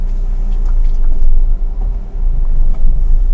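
A manual car pulling away in first gear during a driving lesson: a loud, close, deep engine rumble with a low steady hum, briefly dipping as the revs shift and then building again.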